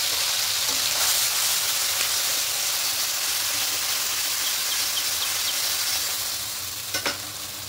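Steady, loud sizzling of a paste of mustard seed, poppy seed and green chillies hitting hot oil with okra in a pan, a continuous hiss with faint stirring scrapes near the end.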